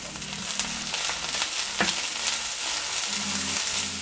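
Sliced onions and crushed garlic fry in a splash of oil, a steady close sizzle with faint stirring scrapes over a low hum, without any talk.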